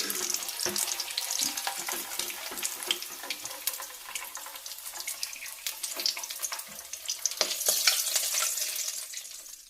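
Chicken legs frying in oil in a pan, heard as a close, continuous bubbling sizzle with frequent crackles and pops that swell louder toward the end.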